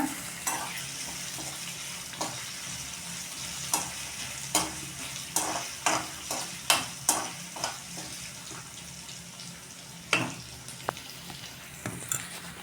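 Sliced onions and green chillies fry in a pan for gobi masala, with a spatula tapping and scraping in a quick uneven rhythm over a continuous close sizzle.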